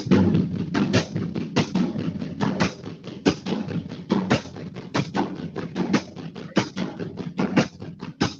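Rapid, steady drum strikes practicing a crossover pattern in a continuous stream, close and fairly loud, with alternating hits forming a driving pattern and no voices.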